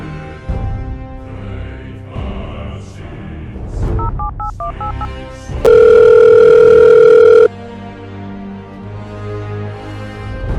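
A steady telephone dial tone rings out loud for about two seconds after a burst of keypad dialing beeps, with background music and dramatic film sound around it.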